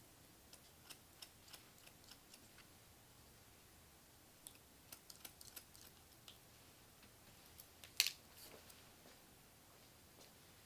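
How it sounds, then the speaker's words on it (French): Scissors trim a beard and moustache in short, crisp snips close by, scattered irregularly across the stretch and mostly quiet, with one sharper cut standing out near the end and no talking. "il vous suffit dans ces cas-là de tourner vos ciseaux et vous faites le dégradé comme ceci"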